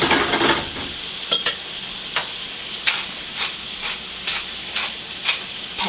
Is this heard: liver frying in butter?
yes